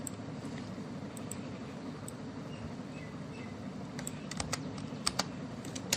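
Typing on a computer keyboard gives soft, irregular key clicks over a steady low background hum, with the taps growing sharper and more frequent toward the end and no talk.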